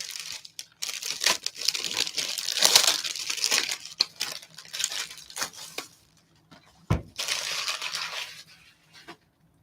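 2003 Upper Deck 40-Man baseball card packs are torn open by hand, with loud crinkling and tearing of foil wrappers in bursts, a sharp thud near the end, then more crumpling, close and with no voices.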